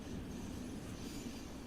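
A Long Island Railroad train in the Train Sim World 4 game brakes, a low steady rumble of wheels on rail with a faint high squeal running through it, no talking.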